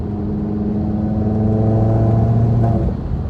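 An Audi TT RS 8J with a six-speed manual gearbox holds a loud, close engine note with steady harmonics, then the revs drop away near the end.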